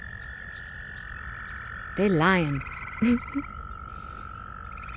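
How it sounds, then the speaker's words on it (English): Frogs of two different types croak steadily in the countryside during an evening stroll on a farm in spring, a continuous chorus under a brief bit of nearby speech. "Listen to all them frogs."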